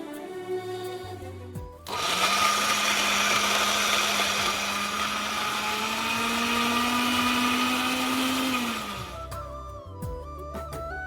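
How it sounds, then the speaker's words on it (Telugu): A kitchen mixer grinder runs on roasted nuts, cardamom powder and dates, a loud steady whirring grind lasting several seconds that starts and stops abruptly, with quieter background before and after. "ఇవన్నీ మిక్సీలో కనుక 1-2 సార్లు అట్లా తిప్పితే చక్కగా ఉండ చేసుకోవడానికి రెడీ అయిపోతాయి"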